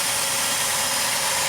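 A Dodge Caravan engine with a faulty high idle runs steadily, a close, even mechanical hum with a faint knocking vibration and no variation in speed.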